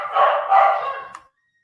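A single dog bark, loud and close, drawn out slightly over about a second, then silence.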